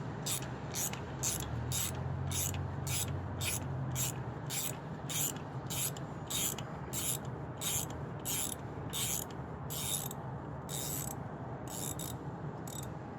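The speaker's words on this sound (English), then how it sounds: "going to take out this old spark plug. Set ratchet to loosen" A ratchet wrench turns out an old spark plug on a 2010 Honda Civic, giving a long run of quick, evenly spaced clicks close up over a steady background hum.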